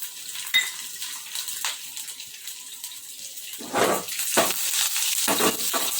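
Mustard seeds and chillies hit hot oil for tempering sev khamani, crackling faintly at first, then breaking into louder spitting, hissing bursts near the end.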